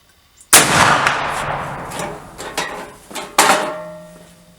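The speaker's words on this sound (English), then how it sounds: "Now I'm going to shoot one." A C. Sharps rifle fired at an outdoor range during load development: one sharp, loud report with a long rolling echo, followed by metallic clanks and a second sharp clatter as the action is worked, no talking.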